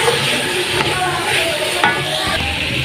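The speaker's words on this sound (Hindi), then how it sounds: "अच्छी तरह इसे हमने मिक्स कर दिया है मसाले में" Sliced okra being stirred into masala in a frying pan, a steady close sizzle under the scrape and rustle of the spoon, with a few soft knocks against the pan.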